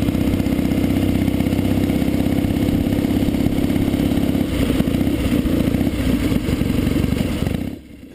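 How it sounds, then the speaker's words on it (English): A 1967 BSA Spitfire motorcycle with baffled straight pipes idles loud and close, a steady throbbing engine note with mechanical clatter that holds for several seconds before cutting off abruptly near the end. "The straight pipes were a little noisy to start with, so I found some internal baffles that I was able to put inside"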